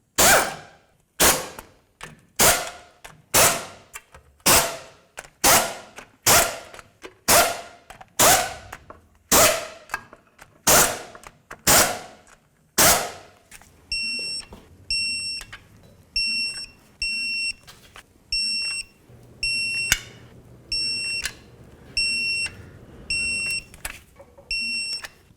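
A torque wrench tightens the rear differential pan bolts on a 1999-2007 Ford F250 to 33 foot-pounds, giving a quick run of sharp, evenly spaced clicks followed by a long series of short electronic beeps, moderately loud and near.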